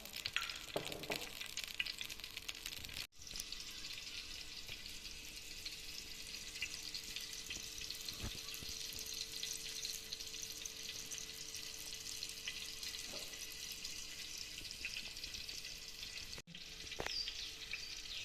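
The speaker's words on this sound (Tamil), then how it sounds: "இப்போ எண்ணெய் ஊற்றிக்கிறேன் எண்ணெய் நல்லா சூடாகட்டும்" Oil heats in a hot frying pan, producing a continuous, fairly faint crackling sizzle that runs steadily, with a few small clicks and a couple of brief dropouts.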